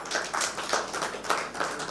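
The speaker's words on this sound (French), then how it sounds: "Et nous applaudissons Isdia" Audience at a youth speech-contest final applauding a finalist as a certificate is handed over, a steady wash of hand claps with rhythmic swells, moderately loud and close, no talking over it.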